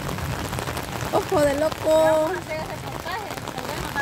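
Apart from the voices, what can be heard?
rain falling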